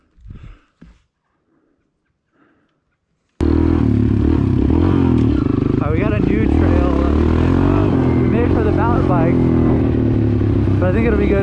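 Kawasaki KLX 110L and KLX 140L pit bikes on a dirt track: after a few quiet seconds with faint sounds, a loud engine suddenly bursts in and keeps roaring and revving close by, with voices mixed in.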